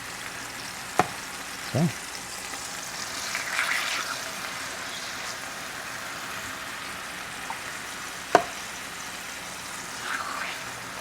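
Fish fillets frying in a pan for healthy meal prep, with a steady close sizzle broken by a few sharp utensil clicks and a brief spoken word.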